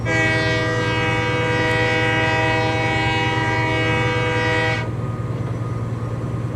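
A train straining up a hill in the Train Life railway simulator game, a loud sustained multi-tone engine drone that continues steadily, then the brighter tones cut out, leaving a lower rumble.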